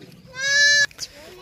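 A goat bleats once on a goat farm, a loud, wavering nasal call of about a second that breaks off sharply, with a faint second bleat and low farmyard noise around it.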